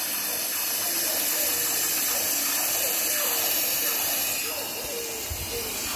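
Steady hiss of water and steam escaping a stuck valve on the model steam locomotive Romulus, continuous and fairly loud throughout with faint mechanical ticking, while a person talks over it.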